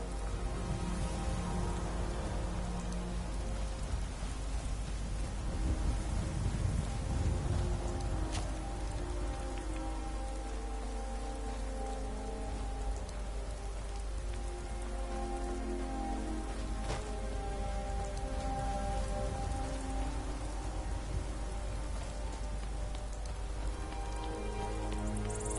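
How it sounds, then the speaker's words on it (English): Steady rain in the game Skyrim patters and hisses continuously on a surface, with a soft, even wash of drops throughout and no voices. "looks like rain"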